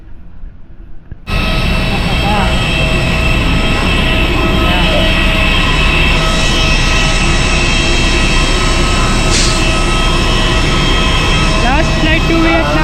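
Steady, loud jet engine roar inside an airplane in flight, a dense continuous drone with a whine on top that starts abruptly after a brief quiet moment and holds level throughout.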